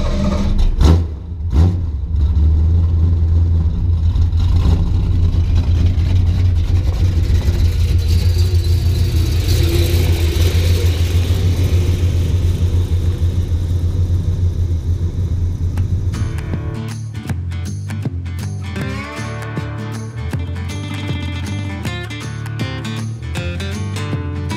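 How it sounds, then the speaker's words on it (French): A car brakes and slows on gravel. Its engine rumbles loudly at first, then fades into a rougher, crackling crunch of tyres on loose stones as it rolls to a crawl. "j'appuie vraiment sur la pédale et on a, c'est même pas un freinage, c'est un ralentissement"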